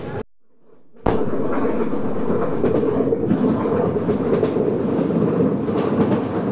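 The Kapotaksha Express passenger train runs on the rails from Rajshahi to Khulna near Poradah Junction, heard from on board as a loud, steady roar and rumble with rhythmic clatter that rises abruptly after a brief quiet moment.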